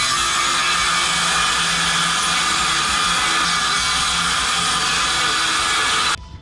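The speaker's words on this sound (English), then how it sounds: "after calibrating my saw blade, it was time for lots of sawing" A power saw cutting the wooden frames of a homemade powerboat, a loud, steady, high-pitched whine that runs continuously for about six seconds before cutting off abruptly.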